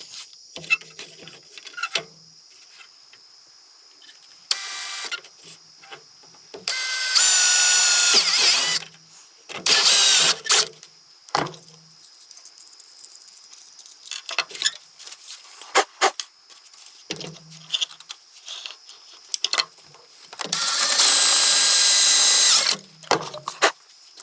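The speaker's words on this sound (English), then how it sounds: "So I'm going to go ahead and get a hole drilled in here." Power drill boring a hole in the trunk of a Crown Victoria while fitting exhaust cutouts, several loud whining bursts of a few seconds each, separated by quieter handling clicks and pauses.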